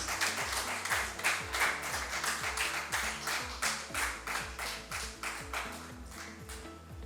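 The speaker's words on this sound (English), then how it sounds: "A big round of applause," Rhythmic, evenly spaced clapping from an audience at a ceremony honouring Melinda, moderately quiet with a low steady hum underneath.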